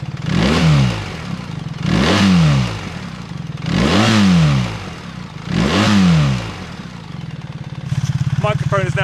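A BMW R1300 GS fitted with an aftermarket exhaust revs hard to 5,000–6,000 rpm four times in an even rhythm, each roar dropping back to a lumpy idle, close and loud, before a voice briefly speaks over the idle.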